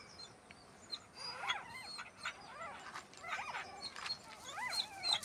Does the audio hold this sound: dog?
yes